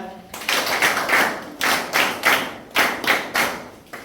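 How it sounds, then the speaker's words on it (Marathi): A group of students in a classroom claps together in rhythmic bursts, loud and close, in a repeating pattern of clusters separated by brief pauses. "चला कसं खाली सगळ्यांसाठी टाळ्या"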